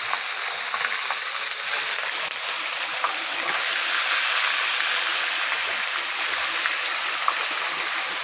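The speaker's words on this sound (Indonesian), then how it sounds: "Lagi goreng ikan ya." Fish frying in a pan at a small hut beside a porang plantation during rain, giving a steady, dense crackling sizzle that runs unbroken throughout, close and even in level, with no voices.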